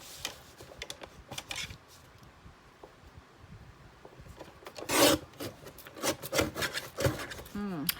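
A Tim Holtz paper trimmer slices about a quarter inch off sheets of paper for a junk journal, giving several short rasping scrapes, soft at first and louder toward the end, close by with no talk.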